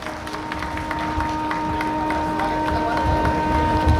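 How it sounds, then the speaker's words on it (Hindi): An audience at a felicitation event claps in dense, steady applause to welcome a national commission member, under a constant electrical hum. "आपका भी जोरदार तालियों से स्वागत किया जाए"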